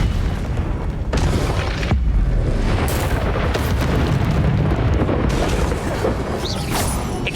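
Confringo fire blast spell bursting in Hogwarts Legacy during a flying-trial boss fight, a run of loud booming blasts and crackling impacts layered over continuous battle noise throughout.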